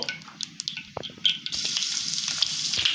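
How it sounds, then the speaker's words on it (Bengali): Onions fry in a few tablespoons of hot oil for a nihari topping, a close, loud sizzle with scattered stirring scrapes that rises into a dense, steady hiss. "চার টেবিল চামচ পরিমাণ তেল দিয়ে এর মধ্যে এক কাপ পরিমাণ পেঁয়াজ বেরেস্তা করে নেব"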